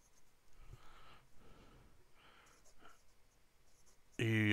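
A Visconti Watermark fountain pen with a medium nib scratches softly across paper in short, faint strokes, close up with quiet breathing, ending on a sudden loud burst.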